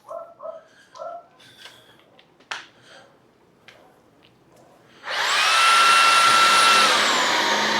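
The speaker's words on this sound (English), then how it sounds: "I'm actually going to run over the carpet one more time with the Shark Detect" A Shark Detect IW4625 cordless vacuum starts up on carpet after a few quiet clicks and handling sounds, then runs loud and steady with a high whine for the last three seconds.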